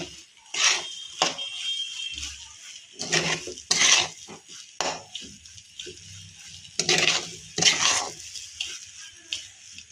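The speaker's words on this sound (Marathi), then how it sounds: "आता मी यात सगळ्यात शेवटी विलायची पावडर टाकून घेते आणि आपण आता शिरा चांगला हलवून घेऊया।" Semolina sheera with cardamom powder is stirred in a pan: bursts of scraping and clattering spoon strokes come in irregular clusters, close and fairly loud, with quieter pauses between.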